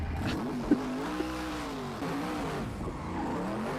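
A Subaru WRX drives hard on an airport surface, its engine droning and revving with rising and falling pitch at steady loudness, moderately close, with no talking.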